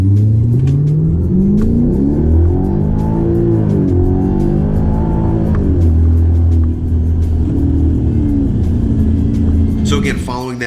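A 2012 Hyundai Genesis 5.0 R-Spec sedan with about 140,000 miles pulls hard from a standstill in cold weather, its V8 engine revving loud and close with rising gear sweeps and shift breaks throughout.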